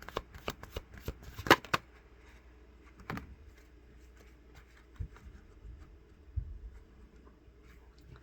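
A deck of Starseed Oracle cards being shuffled, a burst of riffling flicks at the start followed by scattered soft taps and slides of the cards, close and fairly quiet.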